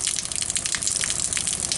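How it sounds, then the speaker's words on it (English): Water running year round out of a spring into a pond makes a steady, hissing rush with bubbling, splashy texture throughout, fairly close and with no talk. "that water runs out of there year round"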